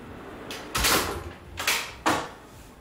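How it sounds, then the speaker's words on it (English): A drawer slide on a workbench with a built-in DeWalt DW735X planer is pulled and clicks as it unlocks, making a few sharp close knocks and sliding clunks in an uneven sequence, with no talk. "Now the drawer slide unlocked, so it's going nowhere."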